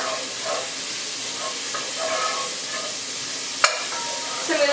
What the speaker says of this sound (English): I'm going to add a little bit more olive oil to it, just to add, because I added carrots and celery, so a bit more olive oil in there. And then just give it a stir.